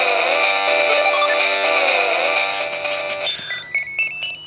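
Wario Land game music and effects play from the Virtual Boy's loud built-in speakers: a bright chiptune melody with stacked electronic tones, then a run of short bleeps and chirping effects.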